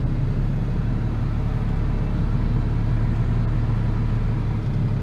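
A tractor engine, likely a Ford 7840, drones steadily and loudly from up close as it drives slowly through a cattle shed, a constant low rumble with no break.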